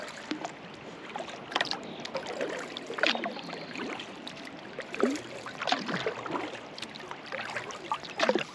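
Paddle strokes splash and drip softly as a canoe or kayak moves across open water, recurring every second or two amid light wind buffeting on the microphone, fairly quiet and close.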